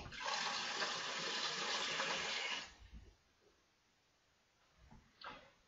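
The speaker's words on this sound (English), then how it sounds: "just top it up with water" Water rushes loudly into a glass demijohn containing bleach for a few seconds, then stops, followed by a couple of faint knocks and a clunk.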